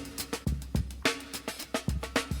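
A funky sampled drum break with hard kick and snare hits in a steady syncopated groove, bright cymbals ringing over each beat, loud and upfront.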